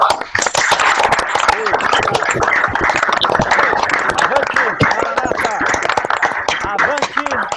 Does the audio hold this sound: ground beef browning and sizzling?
no